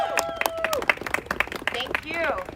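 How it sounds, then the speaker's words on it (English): Crowd claps and cheers at an outdoor political rally in Washington DC, a scattered burst of applause mixed with whoops and voices calling out nearby. "Everyone give Christine a big round of applause"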